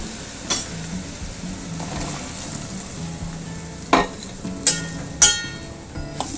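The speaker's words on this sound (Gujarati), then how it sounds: "કાંદાને આપણે ધીરે ધીરે હલાવી લઈશું." Onions sauté with garlic in a pan, a moderate sizzle under slow stirring, punctuated by several sharp clinks of a spoon against the metal.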